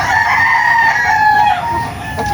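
A rooster crows among caged fighting cocks and a lemon broodcock, a sustained, loud crow with steady harmonic tones that holds over the full length, a second crow starting near the end, with low farmyard noise beneath.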